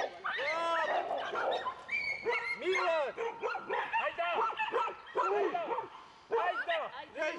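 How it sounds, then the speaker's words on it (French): A dog barks and yips repeatedly in short, uneven bursts, some whimpering, fairly close and clear with no talk. "On entend toujours aboyer"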